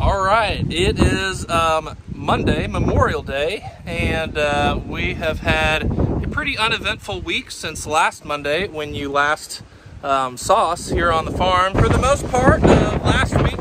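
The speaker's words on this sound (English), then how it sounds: "sorry about the wind, it's very windy today" Steady talking over heavy wind buffeting the microphone, a low rumbling roar that continues throughout.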